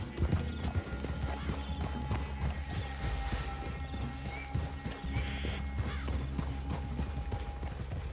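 Horses clip-clop along a woodland clearing in Red Dead Redemption 2, hooves thudding steadily and close under a constant game ambience, with a brief whinny among the steps.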